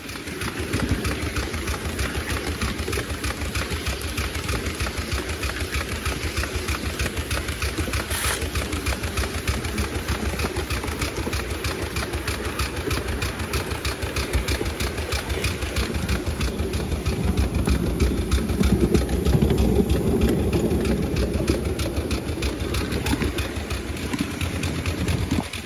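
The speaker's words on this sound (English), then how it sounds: "So we're out on track. Just going for a little chug." A steam locomotive chugs along the track after passing its boiler test, a steady rapid pulsing beat that stays loud and close throughout with a constant mechanical hum and no talk.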